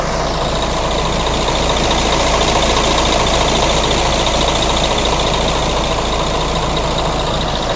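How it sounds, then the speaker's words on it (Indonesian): The diesel engine of a Mercedes 2445 bus idles with a loud, steady, rough rumble, heard close and continuous with no talk over it. "Masih ada suara kasar gresek gitu loh, khas dieselnya tuh masih ada kalau Mercy 2445 seperti ini"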